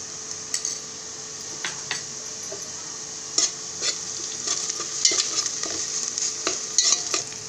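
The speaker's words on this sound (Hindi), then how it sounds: "तेल गरम होने के बाद प्याज डाल दो। प्याज फ्राई होने के बाद इसमें हम अदरक लहसुन डालेंगे।" Onions frying in hot oil with ginger and garlic give a steady soft sizzle, broken by occasional scrapes and clinks of stirring in the pan, with no voices.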